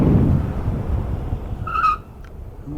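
A 2025 Oxwin ES1 9kW electric scooter brakes hard with its CBS combined braking, a rolling rumble cut by a short, sharp tire squeal before the noise drops away.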